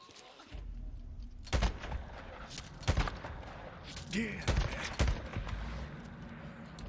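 Gunfire in the video game Days Gone: a handful of sharp, punchy shots spread irregularly across a few seconds over low rumbling ambience, with a faint voice briefly underneath.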